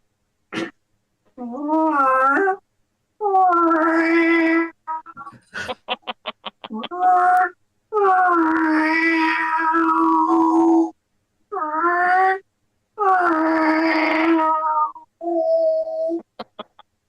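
A stand-up comedian's voice imitates a cat pretending to be a backhoe, mixing long warbling meows with a run of short rhythmic beeps like a reversing warning, delivered loudly and alone in bursts.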